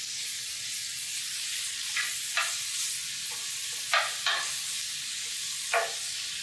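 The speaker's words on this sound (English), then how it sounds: "the very last vegetable you want to add to it is your onion. It doesn't take very long at all, about 30 seconds to saute." Onion and mixed vegetables sauté in a pan for a veggie lasagna, giving a steady bright sizzle broken by a few short scrapes and stirs of a utensil, close up with no talking.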